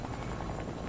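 A helicopter in the Fortnite video game gives off a dense, steady rotor and engine roar that fills the whole moment, loud and close, with no breaks.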